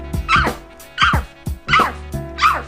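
A person imitates a big dog barking, giving four loud, close woof-like barks at an even pace over a low background hum.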